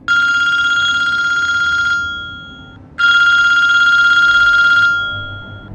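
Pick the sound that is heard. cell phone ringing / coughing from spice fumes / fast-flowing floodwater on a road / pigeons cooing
cell phone ringing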